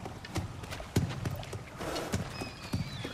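Kelpie horse in the God of War Ragnarök video game, with a steady clip-clop of hooves plus a short, high whinny partway through, heard over a faint ambient background.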